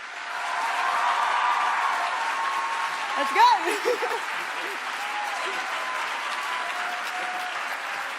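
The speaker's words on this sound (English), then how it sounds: "give him, a legend, a round of applause as he joins our stage" Audience at a national pro-life summit applauding as a guest joins the stage, a broad steady wash of clapping filling the hall, with a brief shout of encouragement partway through.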